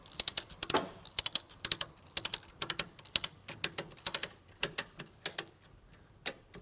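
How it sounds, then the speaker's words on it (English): A ratchet strap hooked under a vehicle bed is cranked tight in quick bursts of crisp mechanical clicks, repeating in short rhythmic runs with brief pauses between strokes, close and alone. "Lift up and start to ratchet."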